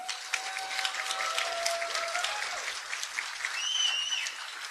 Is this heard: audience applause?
yes